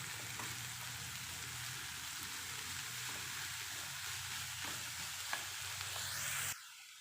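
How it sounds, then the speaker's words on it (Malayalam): Chopped spinach stirred and frying in a pan for Hyderabadi aloo palak matar, a continuous soft sizzle with light scraping, cutting off abruptly near the end. "അരിഞ്ഞെടുത്ത പാലക്ക് കൂടി ഇതിലേക്ക് ചേർത്ത് കൊടുക്കുക. നല്ലതുപോലെ ഇളക്കി യോജിപ്പിച്ച് കൊടുക്കാം."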